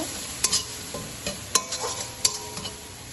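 Spice paste for katla fish curry frying in oil, a constant close sizzle with intermittent sharp spatula scrapes and clinks against the pan as it is stirred, no voices.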